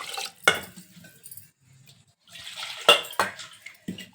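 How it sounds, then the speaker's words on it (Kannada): Two glasses of water splash and pour into a metal pot of egg biryani in short bursts, with clinks and brief gaps between pours. "ಎರಡು ಗ್ಲಾಸ್ ನೀರು ತೊಗೊಂಡಿನಿ ಹಾಕ್ತೀನಿ ನೋಡಿರಿ"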